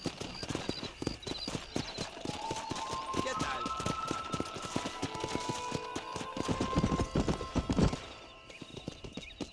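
Horse hooves gallop in a steady rapid clip-clop through the Red Dead Redemption game world, loud and close, with a brief whinny and a voice speaking over the run before it eases off near the end.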